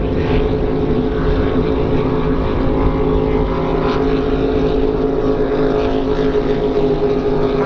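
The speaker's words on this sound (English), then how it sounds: "all three boats on the one straight now" Loud, steady roar of powerful racing powerboat engines, three boats droning together across the water, continuous with no pauses and no voices.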